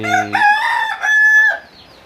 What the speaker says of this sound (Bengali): ওই যে মোরগ, এরা এই নিচেও আছে